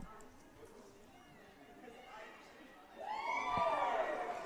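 A home crowd of Thunderbird supporters at a UBC women's soccer match against UFV erupts in rising whoops and cheers after a quiet murmur, growing louder toward the end.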